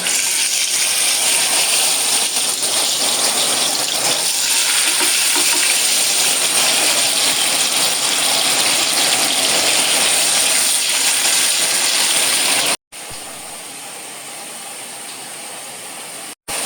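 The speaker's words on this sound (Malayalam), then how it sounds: "ഇനി അത് ചൂടായി വരുമ്പോൾ എണ്ണ ഒഴിച്ചിട്ട് ഉരുളക്കിഴങ്ങ് ഒന്ന് പൊരിച്ചെടുക്കാം" Loud, steady sizzling of potatoes frying in hot oil, a dense crackling hiss that carries on continuously, briefly cutting out and returning slightly quieter near the end.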